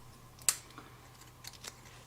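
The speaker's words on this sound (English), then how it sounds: "then I'll cut this yarn" Scissors snip crochet yarn, one quick, crisp cut followed by a couple of faint small clicks, close and quiet against near silence.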